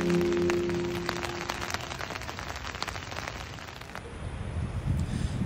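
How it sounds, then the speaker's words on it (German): Steady rain patters on a camping tent roof at night on a bikepacking trip in the Netherlands, a dense soft drumming with occasional heavier drops, fairly quiet and close. "schlafen mit dem einsetzenden Regen ein"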